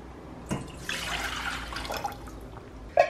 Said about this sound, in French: Hop, donc on va mettre toute l'eau